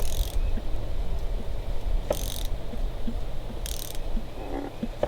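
A 1983 Evinrude 90 HP outboard engine under restoration is turned over by hand, giving rhythmic ratcheting, clicking mechanical sounds with three short bursts of brighter noise spaced a second or so apart.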